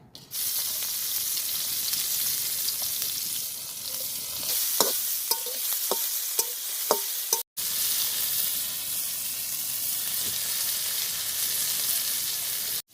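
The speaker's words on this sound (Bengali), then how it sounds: "টেস্টি সল দিয়ে আগে নাড়াচাড়া করলো" Boiled fusilli and penne pasta are stirred with tasting salt in a pan. A steady close hiss runs throughout, with a cluster of sharp utensil clicks and scrapes in the middle and a brief cut partway through.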